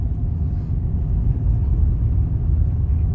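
Inside a Toyota Corolla with a 1.33 engine, climbing a steep hill in second gear, a steady low engine drone and road rumble fill the cabin without pauses or gear changes.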